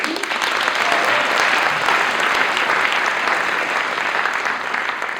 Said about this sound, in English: One more round of applause before we jump in.